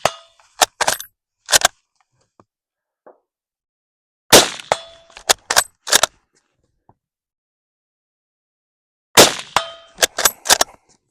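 Yugoslavian M48 rifle shots ringing off steel target plates at 100 and 200 yards, sharp cracks each followed by metallic clangs, fired in three loud clusters of several shots separated by silent pauses.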